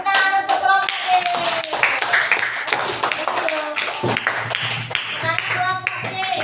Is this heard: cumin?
no